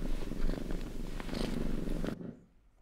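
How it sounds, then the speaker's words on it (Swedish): Close, continuous rumbling cat purr that stops abruptly near the end, leaving quiet. "Katten som spinner."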